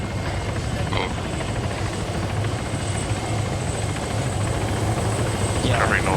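A military helicopter in the Arma 3 video game thrums with a steady rotor and engine drone throughout, loud and close, while players talk over it.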